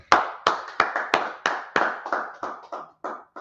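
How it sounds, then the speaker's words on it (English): Spaced, sharp hand claps ring out one after another at a steady, slightly slowing rhythm, about ten in all, close and clear with a short decay after each. "All right, now clap it up."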